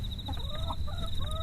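Chickens clucking at night in a rural village, several short rising and falling clucks spread across the moment over a steady high insect-like whine and low background rumble, moderately faint.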